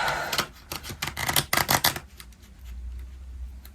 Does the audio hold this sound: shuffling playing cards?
yes